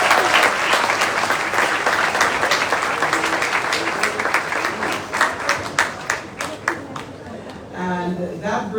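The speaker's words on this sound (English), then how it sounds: "Let us give them another round of applause." An audience applauds after a school performance during the opening ceremony of a national youth health care and medical symposium. Loud, full clapping thins toward the end into scattered individual claps before a voice comes in.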